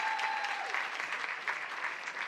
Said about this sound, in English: And there's a nice round of applause for her.